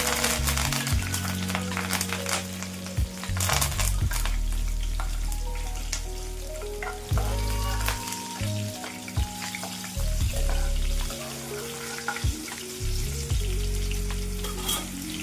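Green chili and curry leaves fry in hot oil with a loud, continuous crackling sizzle and occasional stirring, close up, with no voices.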